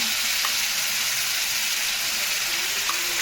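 Ground spice paste of garlic, chili, ginger and grated tomato frying in a pan, a steady close hiss and sizzle throughout, with no one talking.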